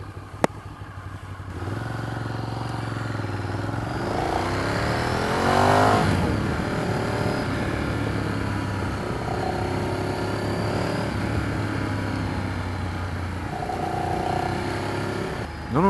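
A Ducati Streetfighter 848 engine roars up through rising revs, its exhaust growling loud and close, then settles into a steady drone with further throttle swells.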